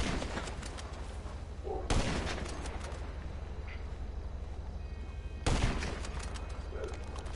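Gunfire in the video game GTA Online, two sharp loud blasts spaced several seconds apart, each followed by a dense rattle of shots and crackling over a constant low background hum.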